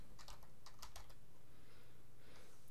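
Typing on a computer keyboard while entering a page title in a code editor, a quick run of soft key clicks early on that then thins out, heard over a steady low hum with no talking.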